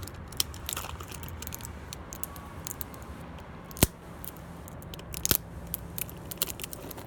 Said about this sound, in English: We'll go ahead and remove this plastic cover that's on it.